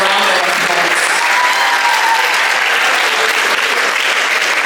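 Loud, continuous applause from a large audience at a school Founders' Day celebration, a dense even wash of clapping held at full strength throughout.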